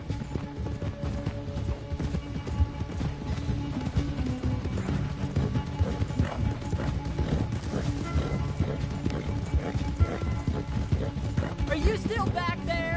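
A horse galloping in the video game Red Dead Redemption 2, a rapid continuous drumming of hooves with creaking tack running steadily, loud and close, with faint talk at moments.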